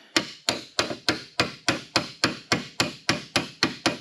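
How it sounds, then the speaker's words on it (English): Light hammer taps strike a car body panel during a repair, about a dozen evenly spaced, ringing metallic knocks close up, each decaying quickly before the next. "Now, some light taps."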